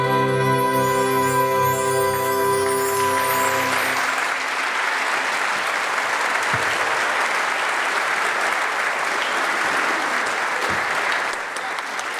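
After a holiday concert song, the audience breaks into loud, sustained applause as the final sung and instrumental notes fade out, the clapping continuing steadily to the end.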